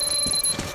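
A landmine beeping in the video game Metro Exodus, heard as a short, steady electronic tone with a high pitched beep, alone with no talk.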